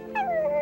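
A cartoon puppy gives a short, thin whimpering whine that slides downward, a single brief cry heard fairly faintly.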